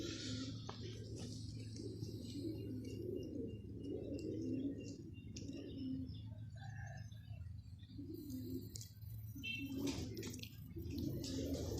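Pigeons of a long-flying racing breed coo softly and steadily close by, with scattered chirps and faint wing flaps mixed in, no talk.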